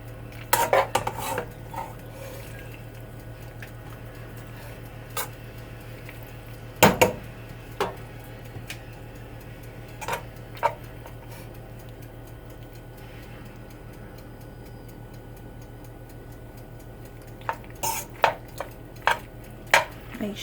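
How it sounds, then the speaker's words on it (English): A utensil stirs tuna pasta with seasoning in a pot, giving scattered metallic clinks and scrapes against the pot over a low steady hum, with a few louder knocks near the start and end. "And mix it around good again."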